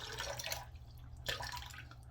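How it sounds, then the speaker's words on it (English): A synthetic shaving brush is dipped into a water-filled sink and lifted out, giving two short bursts of splashing drips over a steady low hum, close by with no talking. "just dip it in the water, wring it out, and that's that."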